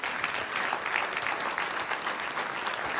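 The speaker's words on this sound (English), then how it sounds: "let's just give everyone a round of applause" Audience applause fills a hall at the close of a homeland defense seminar panel, a steady, even patter of many hands that stays fairly soft and continues on its own for a few seconds without any talking.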